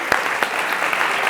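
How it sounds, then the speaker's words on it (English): A short burst of audience applause for volunteers at a devotional gathering, an even, continuous wash of clapping throughout. "Give them both a big round of applause for volunteering."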